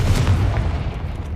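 A deep, muffled boom from a Confringo fire spell in Hogwarts Legacy, loud at first and then fading into a low rumbling tail.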